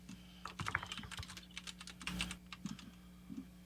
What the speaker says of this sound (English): I can hear you typing really well.